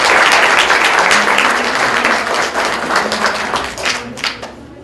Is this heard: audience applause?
yes